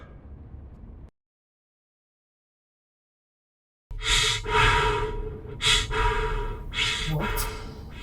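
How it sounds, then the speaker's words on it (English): Heavy, rasping breaths through a mask in a Doctor Who audio drama, starting with a short stretch of quiet breathing, then silence, then loud, close gasps and sighs that rise and fall in uneven bursts. "Breathing through a mask?"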